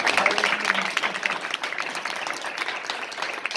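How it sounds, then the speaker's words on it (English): An audience at a professor's talk gives a brief round of applause, dense clapping from many hands that starts loud and thins slightly over about four seconds. "I would like to thank our professor once again and one big applause."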